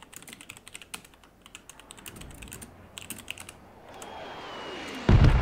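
Rapid key clicks of a computer keyboard typed in bursts during a PUBG gaming session, followed by a rising whoosh and a loud thump at the end.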